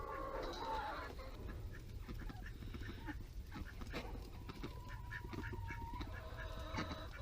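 Ducks quacking and clucking close by in a busy mix of poultry calls, layered and overlapping without pause.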